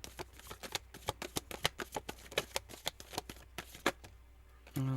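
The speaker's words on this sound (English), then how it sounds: "That's my shuffling." Large tarot cards are shuffled by hand in a fast burst of sharp riffling snaps, one after another, close and clear. A brief rustling shuffle follows at the end.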